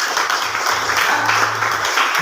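An audience applauding after a question in a meeting hall, dense continuous clapping from many hands filling the room for a couple of seconds, no talking.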